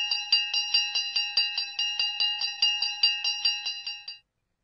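A train bell in a children's story rings in a quick, steady run of bright metallic dings, about eighteen even strikes over four seconds, clear and up close, then stops.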